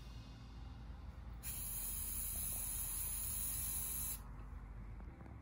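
A can of spray paint hisses in one continuous burst lasting about three seconds for hydro dipping, close to the microphone, over quiet room noise.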